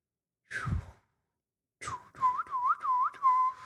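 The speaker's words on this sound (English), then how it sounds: "I can whistle again" After a quick breath, someone whistles a short warbling tune, the notes rising and dipping repeatedly, close and clear with no talking.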